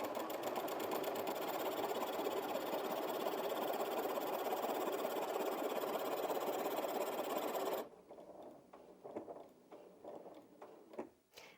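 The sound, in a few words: Janome 5270QDC sewing machine stitching fabric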